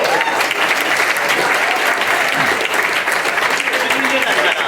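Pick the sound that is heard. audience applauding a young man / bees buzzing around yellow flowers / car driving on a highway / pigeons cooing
audience applauding a young man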